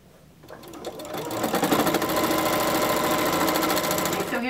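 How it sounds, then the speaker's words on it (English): A sewing machine starts slowly and speeds up into rapid, steady mechanical stitching on a fabric grocery bag, loud and close, running continuously. "So I'm gonna head to my sewing machine and finish it up."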